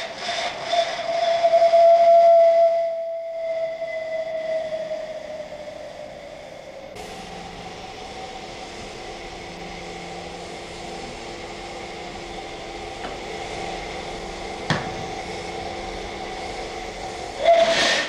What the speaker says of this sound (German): Eingeleiteter Dampf spült die Leitungen so frei, dass sich kein explosionsfähiges Gasgemisch bilden kann.